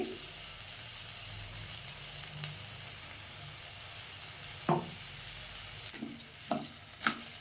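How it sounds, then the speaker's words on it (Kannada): Crushed paste sizzles steadily as it fries in a pan for jeera rice bath, a continuous hiss with a few sharp spatters and stirring scrapes near the end. "ಇವಾಗ ಜಜ್ಜಿರುವಂತಹ ಪೇಸ್ಟನ್ನು ಹಾಕೋತಾ ಇದ್ದೇನೆ ಇಲ್ಲಿ"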